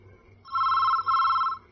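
A telephone rings in two quick, close bursts of an electronic trill, standing out clearly against a quiet background hum.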